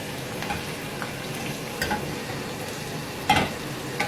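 Curry leaves crackle and sizzle steadily in hot oil, close up, with a few sharper pops and light stirring over a constant frying hiss.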